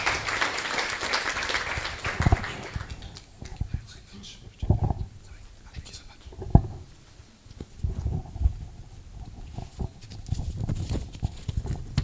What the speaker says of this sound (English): may we please welcome him with a big round of applause.